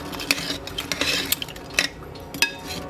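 Fried chicken wings being tossed in a bowl with clarified butter, lemon juice, lemon zest and lemon pepper, giving a run of close, sharp clinks and scrapes in an uneven rhythm, with no talk.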